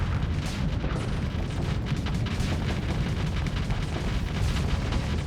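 Torpedoes firing and exploding in the space game Starsector, a dense continuous barrage of booms and bursts layered over each other throughout.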